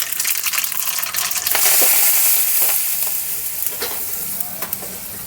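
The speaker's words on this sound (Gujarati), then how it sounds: "અને વઘાર આપણે આની ઉપર રેડી દેવાનો છે." Hot oil tempering with mustard seeds and asafoetida poured over mashed potato filling for aloo paratha gives a sharp, loud hiss that swells midway and then settles into a steady crackling sizzle, close up and without talk.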